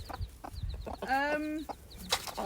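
Chickens on a farm, including a rooster and hens of a silky breed: a nearby bird gives a drawn-out squawking call amid scattered clucks, with people talking quietly in the background.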